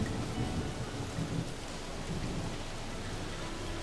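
Steady rain with low rumbling thunder fills a farming simulation game, a continuous dense wash of falling water with deep rolls underneath, no voices.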